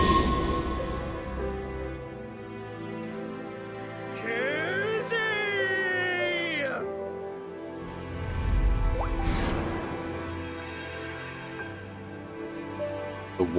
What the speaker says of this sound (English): water drop sound effect.